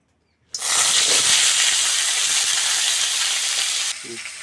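Pieces of elephant foot yam and potato hit hot oil in a pan with a sudden loud sizzle that holds steady and close, then eases slightly near the end as a faint voice comes in.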